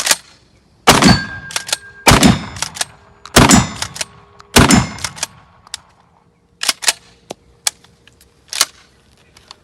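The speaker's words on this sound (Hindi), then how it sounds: "5 राउंड डालें और अब हम रैपिड फायर करेंगे 5 राउंड्स।" Pump action shotgun firing five rounds rapid fire: four loud, sharp blasts at roughly one-second intervals, each trailing off, followed by a scatter of lighter clicks and clacks from the action being worked.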